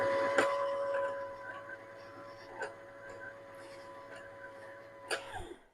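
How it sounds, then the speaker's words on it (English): A sewing machine winds a bobbin with a quiet, steady whirring hum, broken by a few faint clicks and knocks, and the motor winds down at the very end. "So the main thing I watch as your bobbin winds is that it is evenly winding."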